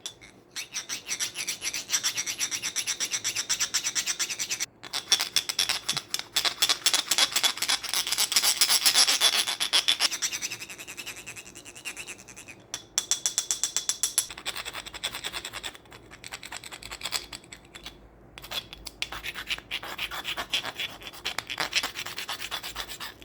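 A metal knife blade scrapes repeatedly over a low-fire ceramic pipe, making a close, gritty rasping sound in rapid strokes with a few brief pauses.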